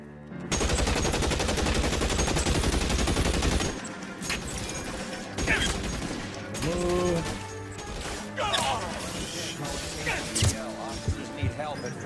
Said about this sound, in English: Like, immediately, they just open fire.